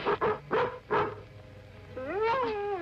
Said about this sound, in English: confounded Miller dog.